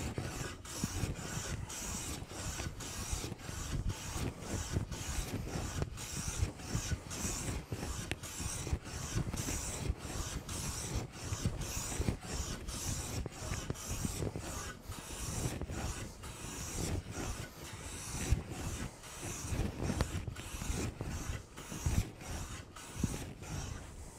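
A hand plane shaves the edge of a timber board in steady repeated strokes, each a rasping swish with a sharp break between passes, close and continuous for the whole stretch.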